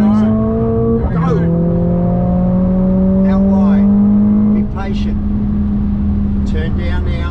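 A 2021 Mercedes AMG GT R Pro accelerates hard on a race track, its engine note climbing steadily and then dropping on a shift before climbing again, loud and continuous while a coach talks over it.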